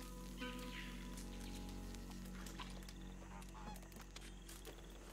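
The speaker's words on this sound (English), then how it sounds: "I feel like I hear birds" Geese honking in Red Dead Redemption 2, a flock's repeated overlapping nasal honks over a steady low background.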